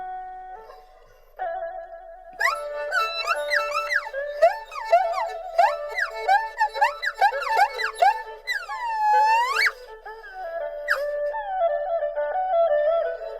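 An erhu imitates bird calls with rapid sliding chirps, trills and rising and falling swoops, including one long upward glide near the end. The bowed tone sounds close and clear, and no one speaks.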